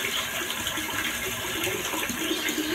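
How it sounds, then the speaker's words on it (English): Water from a tap gushes steadily at close range while whiskers are rinsed from a razor, a continuous splashing rush with no talk. "I'm going to rinse out the whiskers."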